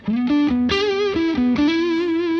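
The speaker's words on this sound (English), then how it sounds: "now with a bit of distortion, I'm going to start off with a crunch sound" Distorted electric guitar with a crunchy, overdriven tone from a DiMarzio Cruiser pickup through an Xotic Effects BB preamp plays a short melodic phrase of sustained notes with slight wobble, loud and close, no talking.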